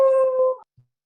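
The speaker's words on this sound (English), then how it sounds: "Sorry, that's my dog." A dog gives one short, high, tonal howl that lasts about half a second and wavers slightly before cutting off, followed by a faint low sound, with no talking.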